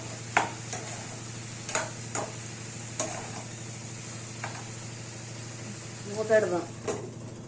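A spoon stirs broad bean (chikkudukaya) curry in a pan, giving a few scattered scraping clacks against the metal over a steady low background hum.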